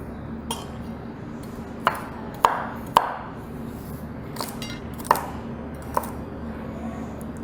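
A knife cuts asparagus into one-inch pieces on a cutting board, with about eight sharp, separate chops spaced irregularly over a quiet kitchen background.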